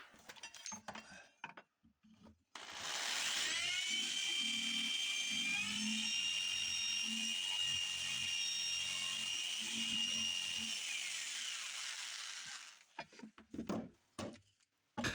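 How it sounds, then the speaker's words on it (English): Power saw, likely a jigsaw or scroll saw, cutting a heart shape from a 2x4 wood slat, a steady high whine running for about ten seconds, with quiet intermittent noises before and after. "cutting down from the curve to the point. A nice little straight line, coping saw, jigsaw, or scroll saw."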